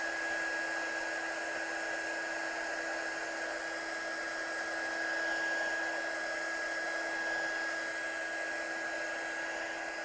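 A hair dryer blows over watercolour card with a steady, even whine that runs unbroken throughout, close and moderately loud, with no voices.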